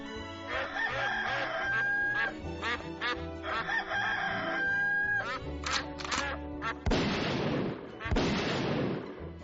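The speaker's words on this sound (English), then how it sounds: "24 hours of infected chickens, ducks, and geese all being put out of their misery." Loud, continuous racket of chickens, ducks and geese, quacking and crowing calls layered over one another, with harsh bursts of noisy squawking toward the end.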